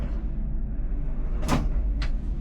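A drawer slides open aboard a Pershing GTX70 yacht with a short scraping rush, followed by a second, briefer slide a moment later, over a steady low background hum.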